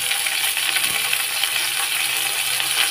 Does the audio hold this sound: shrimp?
yes